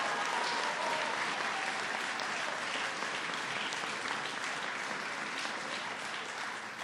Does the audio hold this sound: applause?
yes